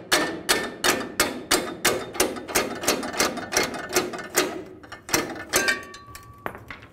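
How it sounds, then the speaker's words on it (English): A hammer strikes a metal bracket under the hood of a 2007-2013 Mini Cooper S during turbocharger replacement, with about two dozen sharp, evenly spaced metallic blows in a quick rhythm. They slow and pause near the end, and no one speaks. "You can use a hammer if you need to."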